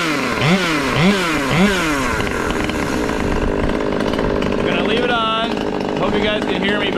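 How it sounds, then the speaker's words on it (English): A T540 MKIII chainsaw idles steadily, its engine settling through a reset and calibration stage with a low, even buzz and a few brief pitch shifts, close by, with a muffled voice faintly underneath. "I don't want to shut the saw off"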